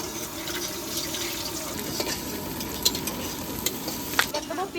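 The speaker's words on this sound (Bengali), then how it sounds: "মাংসতে ফোড়নে দেবো গোটা গরম মশলা আর শুকনো লঙ্কা," Whole garam masala, dry chillies and bay leaf sizzle in hot oil for meat curry, a steady dense crackling hiss with a few sharp pops, close and continuous without talk.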